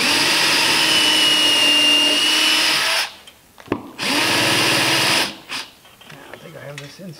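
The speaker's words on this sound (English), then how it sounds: "The next step is to drill into the frame and the stem with lead" A power drill bores screw lead holes into a wooden boat frame and stem, whirring loudly in two long close bursts with a pause between, followed by quieter handling noise.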